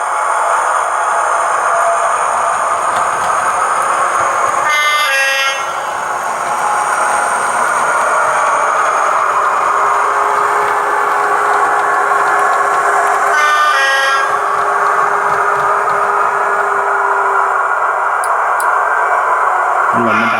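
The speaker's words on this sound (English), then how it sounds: "isn't it lovely to see an HST going past?" A model HST train runs past with a steady electronic engine drone and two short horn toots some seconds apart, loud and close throughout.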